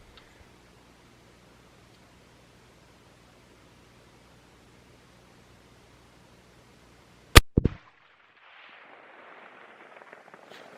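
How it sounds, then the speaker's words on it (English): A custom 300 WSM rifle is fired once from a tripod. The single sharp, loud report follows a long near-silent wait, then a brief echoing crack and faint rustling afterward. "So she's gonna take one or two shots off that tripod, and then we'll move on to the next target."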